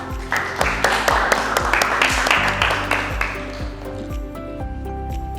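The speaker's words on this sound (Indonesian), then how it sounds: "Tepuk tangan untuk kita semua." Applause breaks out in a classroom during a teacher-training lesson, a fairly close spread of claps over the first few seconds, mixed with ringing metallic pings and clinks that carry on throughout.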